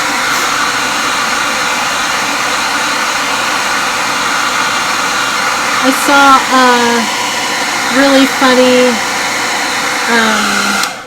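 Steady loud whoosh of a hair dryer blowing over freshly decorated Easter eggs, running continuously throughout while a voice speaks briefly over it near the end.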